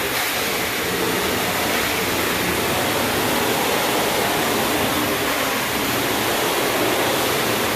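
Carpet cleaning machine rinsing the carpet in a master bedroom, a loud continuous broadband rushing hiss of water and suction, steady and unbroken throughout.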